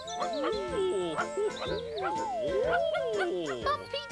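A lively cartoon dog in a children's programme yips and barks in quick bursts, with whimpering, bouncy music around it and playful calls from a character mixed in.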